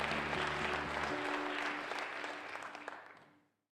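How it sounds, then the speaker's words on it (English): Applause from an auditorium audience fills the hall with dense, steady clapping that gradually thins and fades out toward the end, with a low steady hum underneath. "let's give them a round of applause"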